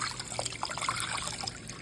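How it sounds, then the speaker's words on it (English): Fresh spring water pours into a pot of beef for shredding, making a steady trickling, splashing rush with small bubbly drips throughout, close and moderately loud with no talking. "And then I'm gonna put some water, just fresh spring water,"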